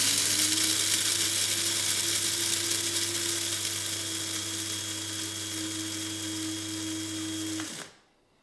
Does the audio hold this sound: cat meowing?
no